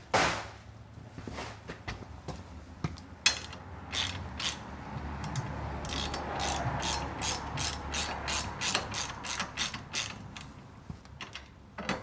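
Rapid ratchet wrench clicks tightening a bolt on an SW Motech crash bar being fitted to a 2016 Kawasaki KLR 650, coming in close, loud bursts of sharp rhythmic ticks with short pauses between strokes.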